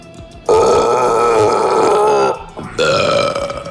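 A voice imitates drunken burping into a toilet: one long, loud, resonant belch, a brief pause, then a second drawn-out burp close to the mic.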